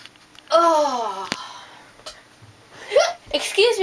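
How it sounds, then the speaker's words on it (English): Hiccups from a person who is pregnant, short sharp vocal catches breaking up nearby speech, with talking before and after. "I see you have the hiccups."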